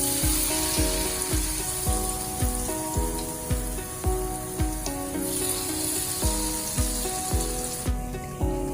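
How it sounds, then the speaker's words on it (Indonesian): Steady sizzling of something frying in hot oil continues throughout, under a rhythmic musical backing with repeated beats. "setelah minyak panas, tuangkan adonan ke dalam"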